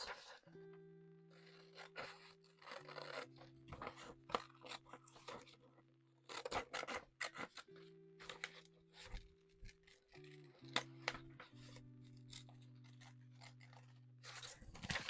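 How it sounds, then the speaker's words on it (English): Scissors cutting paper to make a hat design, a run of short crisp snips and scraping cuts in quick bursts, close and fairly soft over a sustained low electronic hum. "So now I'm going to cut this out."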